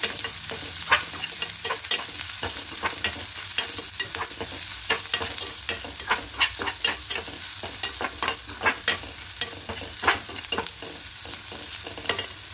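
Lentils and onions frying and being stirred in a pan on a gas stove, with a steady sizzle and repeated scraping strokes of a spoon in an irregular rhythm, heard close and alone.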